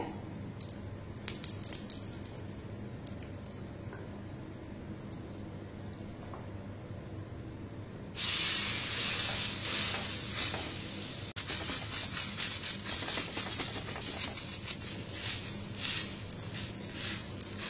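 Adai batter frying in oil on a pan, a steady sizzle that jumps suddenly louder midway as more oil hits the hot pan, then crackles on with scraping and stirring noises, with no talking.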